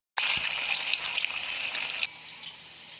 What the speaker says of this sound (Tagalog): Magluluto po tayo ng pritong toko at saka ginisang repolyo sa sardinas.